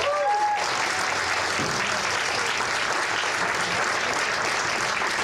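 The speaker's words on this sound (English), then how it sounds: "Welcome Dr. Langley and his family to CBC with a big round of applause." A baseball crowd at CBC gives a sustained round of applause welcoming Dr. Langley and his family, broad even clapping throughout after a brief tonal sound at the start.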